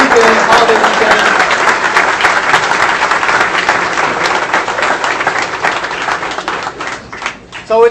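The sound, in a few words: rally crowd applause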